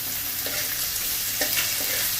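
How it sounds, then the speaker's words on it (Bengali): Chopped garlic and half an inch of ginger fry in a pan, a steady, even hiss of hot oil with a few faint stirring taps, close and moderate in level. "এরপর ভালোভাবে ভেজে নেওয়া হচ্ছে।"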